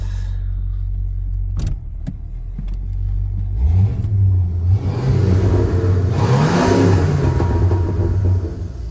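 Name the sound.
V8 engine revving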